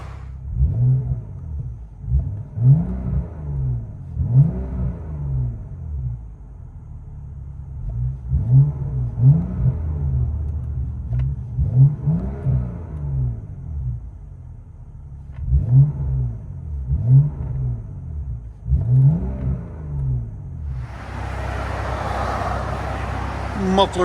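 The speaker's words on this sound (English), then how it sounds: "Muffler delete, BMW" Exhaust of a 2013 BMW 640i with a 3.0L inline-six and muffler delete, revving in repeated deep bursts with rising and falling pitch, heard up close with a brighter whoosh of air near the end.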